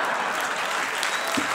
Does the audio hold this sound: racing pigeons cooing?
no